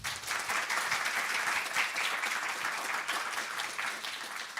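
Dense, sustained audience applause at a classical string quartet concert night, a steady wash of many hands clapping throughout without pause.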